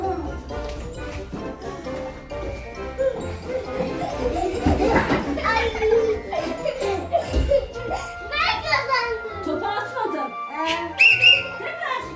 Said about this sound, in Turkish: Düdük sesiyle başlayabilirsiniz.